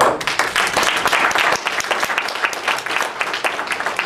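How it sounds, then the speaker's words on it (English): Loud, close audience applause for a man named Mr. Jameson, thick rapid clapping from many hands filling the whole stretch without a break. "we need to applaud Mr. Jameson"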